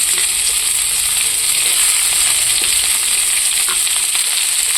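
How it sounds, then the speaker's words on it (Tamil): Sliced onions, added after green chillies, fry in hot oil for a Tamil chicken curry, a loud, close, continuous hiss of sizzling with faint clinks, steady throughout and with no voices. "வெங்காயத்தை போட்டு நல்லா வணக்கலாம் ஃப்ரெண்ட்ஸ்"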